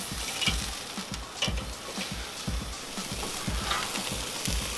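Porterhouse pork chops sizzle on a Weber kettle grill, a steady close hiss with crackles, punctuated by soft, regular knocks about once a second.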